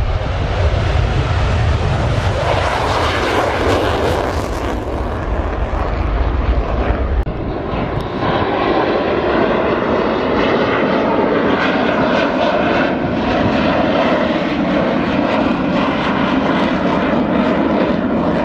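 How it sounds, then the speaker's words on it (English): A fixed-wing rescue plane's engine drones loudly and steadily overhead at an air show, with rushing wind buffeting the microphone throughout. "This is a rescue plane."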